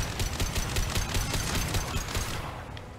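Rapid gunfire from a Mass Effect 2 firefight rattles through a dense, continuous burst of shots, loud and close, tapering slightly near the end.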